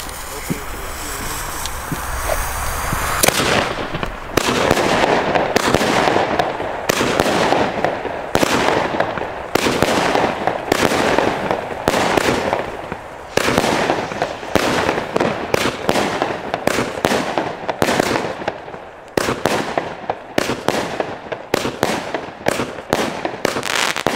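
A Heron Psycho firework battery fires sixteen shots outdoors, sharp loud bangs arriving in a quick irregular volley after a brief hiss of ignition, with wind rumble on the microphone.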